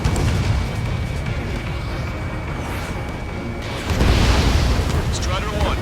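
Missile explosions in the jet combat game Ace Combat 7: a rumbling roar building into a loud, broad blast near the end, with radio voices talking over it.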